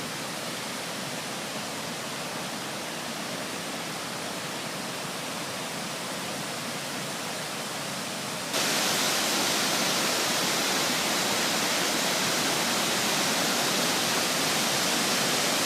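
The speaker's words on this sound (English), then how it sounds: "It's a fair amount of water flowing today too." Doanes Falls in Royalston, Massachusetts rushes with a fair amount of water, a constant broad roar that becomes noticeably louder and closer partway through, with no talking.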